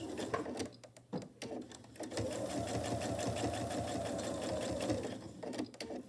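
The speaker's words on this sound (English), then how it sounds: "I'm just going to stitch it down as close to the edge as I can, and I'm going to tie off on each end" A sewing machine stitching down the edge of a fabric face mask, a fast steady mechanical whir lasting about three seconds, close and clear, bracketed by short clicks and handling of the fabric.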